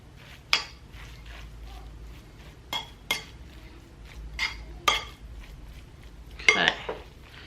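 A utensil clinks and scrapes against a bowl while stirring a creamy, cheesy lasagna filling for spaghetti squash broccoli lasagna, with scattered knocks and a busier clatter near the end, fairly close.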